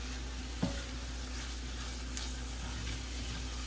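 Ingredients being stirred and mixed in a hot pan, with a soft steady sizzle and a couple of light scrapes from the utensil, close and fairly quiet, with no talk.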